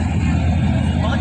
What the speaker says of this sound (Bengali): গাড়ি এখন স্পিডে যাচ্ছে